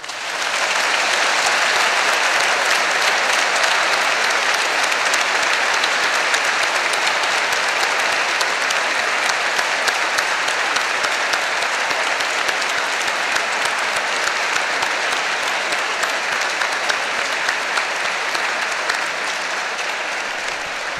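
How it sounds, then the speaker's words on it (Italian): Sustained applause from a concert audience inside a cathedral in Iași, a dense, steady clapping that fills the space evenly for the whole stretch with no talking over it. "Facciamo un altro applauso forte."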